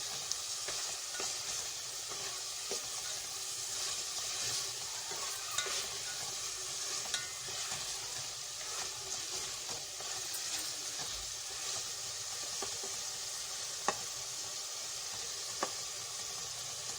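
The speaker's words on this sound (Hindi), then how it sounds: "इसमें थोड़ा सा बटर डालेंगे। अगर देसी घी है तो आप देसी घी डाल दें" Qeema palak with butter or desi ghee frying in a pan gives a steady, close sizzle and hiss, with faint stirring clicks throughout and no talking.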